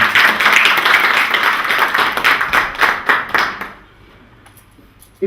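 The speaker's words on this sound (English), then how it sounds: "Give her a nice round of applause." An audience claps for a woman called to the front of the stage at a spirit medium show, brisk distinct handclaps building into a dense round before tapering off to near silence, with a faint knock at the end.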